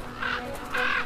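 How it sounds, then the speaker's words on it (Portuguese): Crows caw over carcasses in a snowy far-northern winter, contesting the food with eagles. Two loud, harsh caws sound close by, each drawn out, with a short gap between them. "Os corvos defendem o seu alimento."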